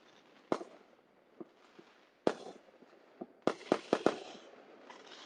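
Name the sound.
Fourth of July fireworks exploding in Tennessee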